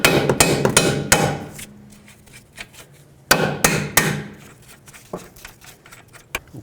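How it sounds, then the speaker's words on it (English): Close, loud metallic hammer blows drive a bolt out of the steering knuckle while replacing the front strut on a 2005-2009 Chevy Equinox. Sharp strikes come in quick bursts, then as scattered single hits, with no talking. "and now with a hammer drive the bolt out."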